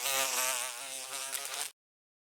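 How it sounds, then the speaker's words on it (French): A housefly buzzes close by in a steady, high-pitched whine that wavers slightly, then cuts off abruptly, leaving silence. No voices are heard. "Mouche."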